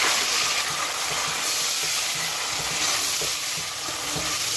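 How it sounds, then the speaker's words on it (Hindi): Browned onions and three tomatoes frying in oil in a pot, a loud continuous sizzle with repeated stirring scrapes and clatters, no talking. "अब हम इसमें 1 प्याली ऑयल डालेंगे, हम प्याज को ब्राउन करेंगे।"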